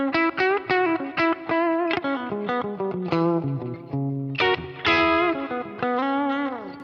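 Bright, twangy electric guitar notes on the bridge pickup through a Kemper '65 Deluxe Reverb capture, picked in quick phrases, slightly thin and cutting, with short bends and a sustained note ringing out at the end.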